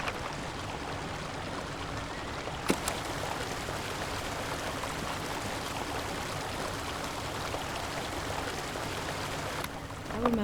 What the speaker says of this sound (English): I'm going to record the sound of water as well.